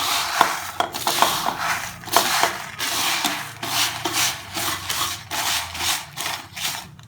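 Fried boondi is stirred into melted sugar syrup in a pan while making motichoor laddu, giving continuous close scraping and rubbing sounds in uneven strokes. No one speaks.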